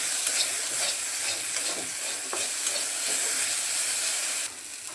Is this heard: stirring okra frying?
yes